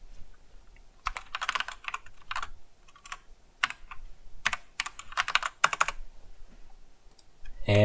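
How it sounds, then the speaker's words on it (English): Fast bursts of typing on a computer keyboard, close clicking keystrokes in clustered runs with short pauses between them and no talk. "I've somehow managed to type things incorrectly"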